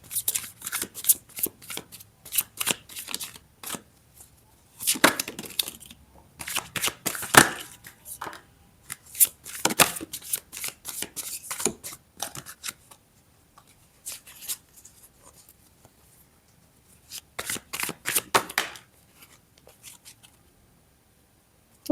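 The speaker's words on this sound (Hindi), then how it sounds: "तो हम इन कार्ड्स को अरेंज करेंगे।" Tarot cards are shuffled and handled up close in quick riffling bursts of crisp, papery flicks and slaps, separated by short quiet pauses, with no talking.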